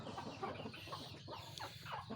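Fighting rooster clucking, a few short, faint clucks and throaty calls close by over low background noise.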